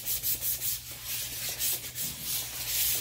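Sandpaper is rubbed by hand over gloss black Rust-Oleum paint on a 2018 F150 part. The strokes are steady, rhythmic and close-up, with a continuous gritty rasp.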